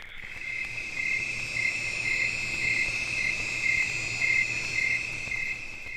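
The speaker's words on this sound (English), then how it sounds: "The evening settles in with a chorus of crickets and the occasional splash from the nearby swamp" A steady chorus of crickets trills in the evening near a bayou swamp, a continuous high pulsing chirr at moderate distance with a faint low drone beneath and no voices.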